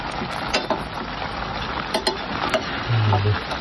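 Continuous dense sizzle of food browning in a very large pot, with occasional clinks of a utensil against the metal.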